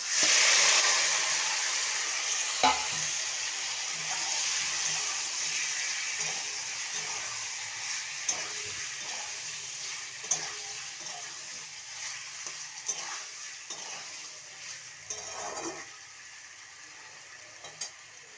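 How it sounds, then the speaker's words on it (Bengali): Spice-marinated chicken dropped into hot oil, a loud hiss at first that settles into a steady sizzle, with occasional clinks and scrapes of stirring, close and without speech. "এই তেলে এখন আমি সমস্ত মশলা দিয়ে ম্যারিনেট করা আছে চিকেনটা আমি দিয়ে দেবো"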